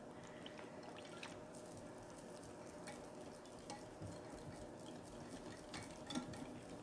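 Swerve sweetener and pumpkin pie spice being whisked together in a bowl for pumpkin pie fat bombs, a quiet continuous scraping and rattling texture with faint irregular taps, close up and low in level.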